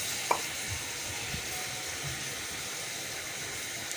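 Pre-boiled mangoes dropped into melting sugar for an oil-free sweet-sour-spicy mango pickle, giving a soft, steady sizzle and hiss with a brief clack at the start and faint stirring, no talk.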